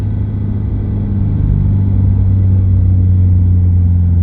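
Loud, deep exhaust drone from a 2022 Subaru BRZ with a REMARK axleback exhaust while driving, a steady low rumble that swells slightly as it goes, with no talking.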